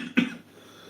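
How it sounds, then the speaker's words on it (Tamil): A single short, close cough from someone speaking indoors, one sharp burst followed by quiet room tone. "இருமல் இருக்கு, ஒரு 2 நிமிஷம்."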